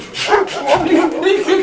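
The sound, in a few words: dog barking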